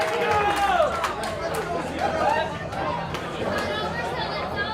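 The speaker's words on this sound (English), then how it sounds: "And there's the crowd." A pool shootout crowd murmurs and reacts with a steady wash of chatter and excited voices, while a commentator talks over the noise throughout.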